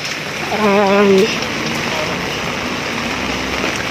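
Steady rain falls in a Hong Kong street and makes a constant, fairly loud wash of hiss. A voice speaks briefly over it near the start.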